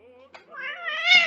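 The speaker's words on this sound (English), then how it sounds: "sorry about the cat there" A pet cat meows indoors, a loud drawn-out rising and wavering meow, close to the microphone, with no talk over it.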